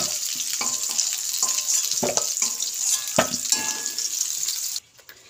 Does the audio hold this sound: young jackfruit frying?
yes